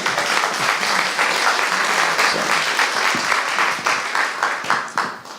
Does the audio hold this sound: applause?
yes